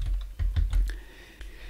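Shortcut keys tapped on a computer keyboard while editing code in Android Studio: a quick run of five or six close, crisp clicks, then a single later tap, with no talking.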